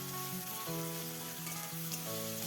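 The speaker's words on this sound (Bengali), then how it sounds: "খানিকক্ষণ নেড়ে চেড়ে পেঁয়াজগুলোকে একটু ভেজে নিতে হবে" Thinly sliced onions fry in oil for a lemon-chilli chicken dish, a soft, steady sizzle with stirring underneath and a faint tonal hum in the background, nobody speaking.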